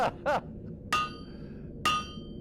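A blacksmith's hammer strikes an anvil four times at uneven spacing, each blow sharp and close with a bright metallic ring that lingers briefly; no one speaks.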